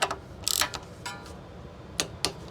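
A torque wrench clicks sharply while bolts are tightened on a Honda GX140 small engine being repaired for heavy oil burning, giving several distinct close ratcheting snaps at uneven intervals with no talk.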